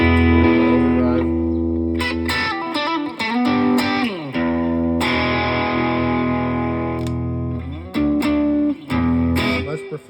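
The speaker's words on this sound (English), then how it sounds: "Overdrive." Electric guitar through an overdrive pedal, loud and thick, ringing out sustained chords and quick lead phrases with brief pauses near the end.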